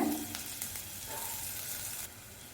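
Chopped shallots sizzle in hot oil with mustard and fennel seeds for a prawn masala, giving a steady, fairly quiet hiss with a few soft crackles and no voices.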